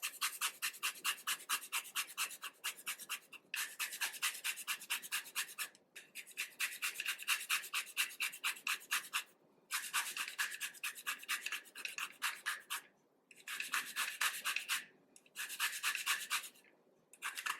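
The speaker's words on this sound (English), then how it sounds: "I'm also going to zest my lemon right in here." A lemon is zested by hand over a bowl of herb butter for a Thanksgiving turkey, giving close, rapid rhythmic rasping strokes in steady bursts with brief pauses between them and no talking.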